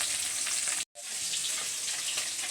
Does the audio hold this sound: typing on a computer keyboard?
no